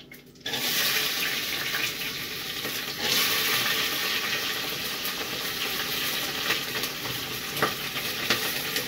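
Onions hit a hot pan and fry with a loud, steady sizzle that starts abruptly and continues with occasional stirring scrapes, close and without talk.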